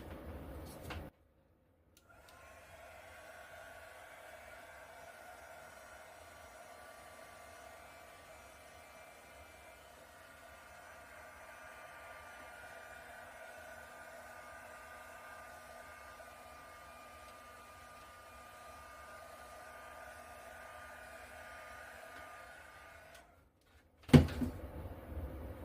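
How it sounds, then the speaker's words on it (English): A heat gun blows over an acrylic paint pour with metallics, a steady, faint airy whoosh running for about twenty seconds. It starts and stops abruptly with a quiet click at each end. "I'm going to hit it once more with a heat gun."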